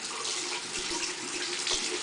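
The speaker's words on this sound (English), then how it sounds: "You're going to wet it first, just under lukewarm water" Lukewarm water runs steadily from a tap over a makeup brush being wetted, a close, continuous splashing hiss with a few soft drips and knocks, and no voices.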